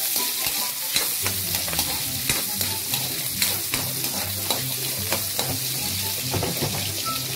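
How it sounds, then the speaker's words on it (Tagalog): Chayote being sautéed in a pan, a loud continuous sizzle broken by frequent rhythmic scrapes and clacks of stirring, close up and without talk. "pinisa ko yung gulay. Yung sayote."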